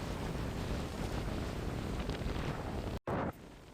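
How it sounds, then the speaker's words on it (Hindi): Strong wind buffets the microphone on an Oman beach, a loud continuous broadband roar that cuts out for an instant near the end, then returns slightly weaker. "इतनी तेज हवा है कि सब कुछ उड़ गया"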